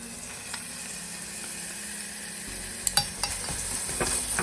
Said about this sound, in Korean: 또 살짝 볶아주세요